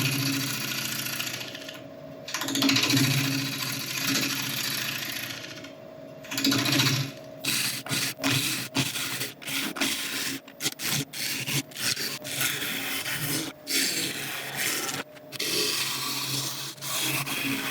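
African mahogany bowl spinning on a wood lathe at about 850 RPM, with a loud continuous scraping of the tool cutting the wood, broken by short gaps and choppy catches as the cut comes and goes.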